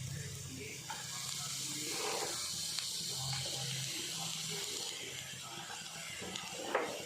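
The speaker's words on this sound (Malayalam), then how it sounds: "ഇനി നമുക്ക് ഈ ക്യാബേജ് ഇതിലേക്ക് ഇട്ട് കൊടുക്കാം കേട്ടോ." Shredded cabbage tipped into a hot pan for a cabbage and carrot thoran stir-fry gives a steady close hiss and sizzle throughout, with a few soft clatters and a brief louder scrape near the end.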